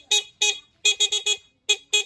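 A small motorcycle horn on a Rusi Smart 110 beeps in short, bright bursts, two single toots followed by a quick run of four, then two more, loud and close.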